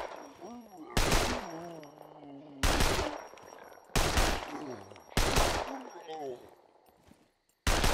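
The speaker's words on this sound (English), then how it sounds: "Controlled shooting, please" Pistol fire in the video game Scum rings out as five loud, sharp single shots spaced about a second apart, with someone talking in between.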